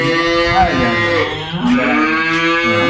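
Loud, drawn-out cow moos fill the clip, one long low bellow sliding in pitch followed by another, with no talking.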